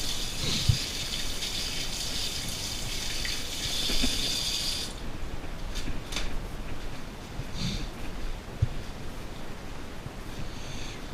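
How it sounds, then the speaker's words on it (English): Tap water runs steadily into a kitchen sink while hands are washed, a soft continuous gush with small splashes and clatters, fairly quiet and unbroken. "So wash my hands."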